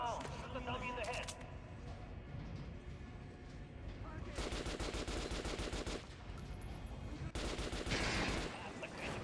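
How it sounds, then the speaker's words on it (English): Gunfire at a shooting range dummy in the video game Metro Last Light Redux, with several loud sharp shots in bursts over game ambience and occasional voice dialogue. "Quit messing around. Shoot the dummy in the head."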